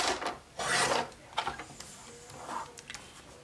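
Paper is cut into strips for a handmade card, producing a few close rasping, rubbing cuts with small clicks between them, quiet and without speech.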